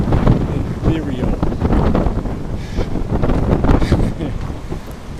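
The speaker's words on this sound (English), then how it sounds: "It really is windy." Strong outdoor wind buffets the microphone continuously, a loud rumbling gust noise throughout with no pauses.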